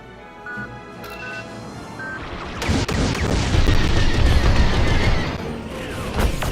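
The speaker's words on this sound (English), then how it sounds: "Sometimes those missiles miss, but as you can see, they loop back around." In the Star Wars Squadrons space combat game, cluster missiles fire with faint beeps and then burst into a dense, rolling barrage of loud booms and explosions that continues to the end.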